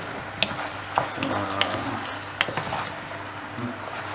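A utensil scrapes and taps against a pan while creamy pasta is stirred, giving a few soft clinks over a low, steady background hum.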